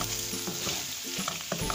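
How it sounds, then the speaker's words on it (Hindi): Chicken jalfrezi with spices and black pepper sizzles steadily in a pan while a spoon stirs it, scraping against the pan in a few short strokes, close and alone with no talk. "अब मैं इसको अच्छी तरह से मिक्स कर लूंगी"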